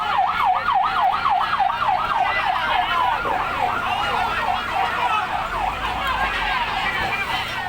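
A wailing fire engine siren from one of six firefighting trucks of BPBD Aceh Tenggara, sent to a blaze that destroyed 19 houses, rises and falls rapidly and loudly over engine rumble and street noise.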